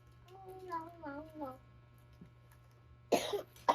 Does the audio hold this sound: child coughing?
yes